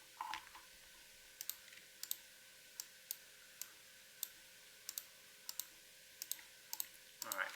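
Numbers are typed on a computer keyboard in a quiet room as a string of light, evenly spaced key clicks at a moderate pace, ending in a brief burst of rustle.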